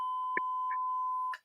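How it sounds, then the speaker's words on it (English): A steady electronic beep tone from a radio-show beep button holds for over a second, with a few faint clicks and taps over it, then cuts off abruptly. "I heard that beeping sound"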